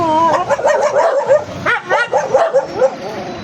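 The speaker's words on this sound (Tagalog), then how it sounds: "Nakakatakot naman yung aso na yun" A leashed dog near a gate on a walk barks and yips in quick, repeated bursts, loud and close, with some whiny tones between the barks.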